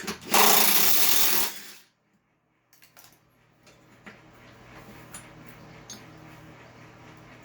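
An impact wrench hammers at a bolt on a riding mower deck in one loud burst of under two seconds, then quiet clicks and small metallic handling sounds follow.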